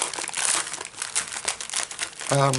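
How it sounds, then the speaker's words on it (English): Crinkly plastic packaging around a set of eyeshadow-style pan pastel applicator tools rustles and crackles steadily up close, with a brief voiced sound at the very end. "So sorry about the rustling"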